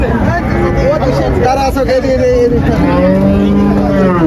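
A Holstein Friesian dairy cow moos in long, loud, drawn-out calls, close by, over a steady babble of people talking at a cattle sale.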